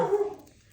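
A small pet dog barking once on a porch, a single close yip that fades quickly into quiet.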